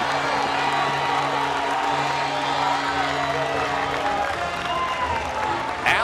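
A stadium crowd roars and cheers after Michigan scores against Johns Hopkins in a 2025 college lacrosse game, a sustained wash of shouting and applause heard from a broadcast booth, with a commentator talking over it.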